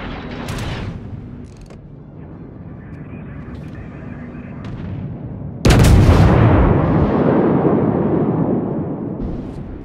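Naval guns fire in a warship video game: after a stretch of steady engine hum and game effects, a single loud, close cannon blast erupts and rolls into a long rumbling decay.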